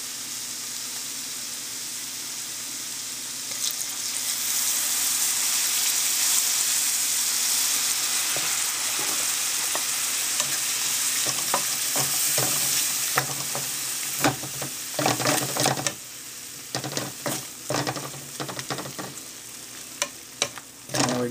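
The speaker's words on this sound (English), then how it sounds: "So now we're just toasting the flour, and then we're going to add a little bit of cream to turn that flour and butter into a sauce." Flour toasting in melted butter in a pan sizzles and hisses steadily, with scraping stir clicks growing busier toward the end; no one speaks.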